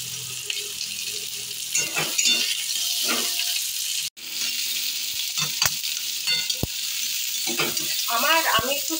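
Dried chili and onion fry in a pan with a steady sizzle and stirring clatter. A voice talks over it at times, and the sizzle cuts out briefly near the middle.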